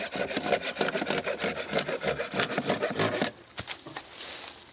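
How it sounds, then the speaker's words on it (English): A Silky Gomboy 240 folding saw cuts through a green log in quick, rhythmic back-and-forth strokes, a close rasping sound that stops abruptly, followed by a few faint knocks and some quiet rustling. "It just saws so incredibly fast."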